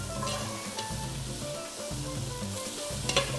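Okra frying and sizzling in a pan after a splash of water is added, a steady close crackle with occasional stirring scrapes, no talking, while a chicken-and-rice galinhada is being cooked.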